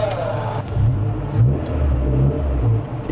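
A Honda Integra DB8 GSR with a cable throttle pulls away from a standstill, its engine rumbling low and steady and rising in surges up close as the car accelerates.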